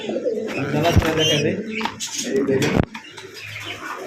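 Fancy pigeons coo close by, low throaty warbles, with a voice speaking over them.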